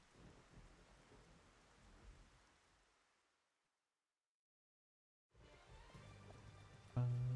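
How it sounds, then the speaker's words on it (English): A thunderstorm with rain in Xenoblade Chronicles: Definitive Edition rumbles and hisses, fades out to full silence, then returns with rain and a low, loud tone swelling at the end. "Oh, it's a thunderstorm."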